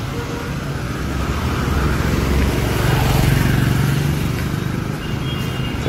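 Main-route road traffic in Hyderabad: a steady, continuous roar of passing cars and motorbikes, swelling slightly toward the middle, with no voices.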